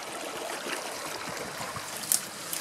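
Stream water flows out of culverts in a faint, continuous outdoor rush and trickle, with a brief brighter splash near the end.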